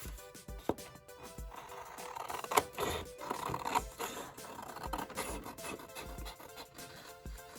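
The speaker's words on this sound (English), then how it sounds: "I take my scissors and give it the good old cutout." Scissors snip through paper in a journaling session, a run of close, dry crisp cuts and rustles with uneven rhythm, alone without talk.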